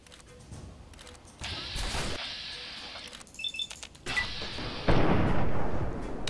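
Gunshot in the video game Fallout 3, a fight against a behemoth super mutant with bursts of firing, crashes and heavy impacts that grow louder toward the end, with a final sharp blast.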